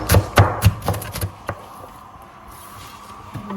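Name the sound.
chopping shallots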